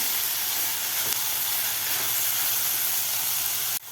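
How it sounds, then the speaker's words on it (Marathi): Tomato sizzling with onion in a hot pan for puri bhaji, a steady, loud, broad hiss of frying that runs unbroken and then cuts off abruptly near the end. "टोमॅटोसुद्धा आपल्या कांद्याबरोबर परतून घ्यायचं आहे"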